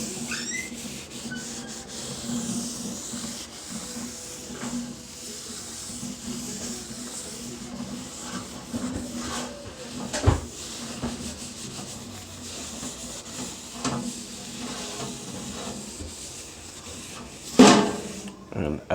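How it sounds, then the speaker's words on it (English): A napkin soaked in olive oil is rubbed across a pizza pan, a steady soft scrubbing swish that runs on and off with a couple of louder scrapes, close to the ear. "Put a little olive oil on the napkin, you know. Grease my pan up real good."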